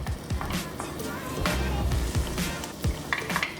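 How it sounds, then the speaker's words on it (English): Onions sauté in a pan, giving a continuous sizzle broken by scraping stirs and light clanks of a utensil, close and fairly loud. "Just saute the onion up"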